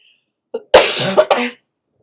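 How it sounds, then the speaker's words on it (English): A short, close cough burst, a couple of harsh throaty hacks in quick succession, with silence around it. "I'm so sorry if I'm coughing in your ear."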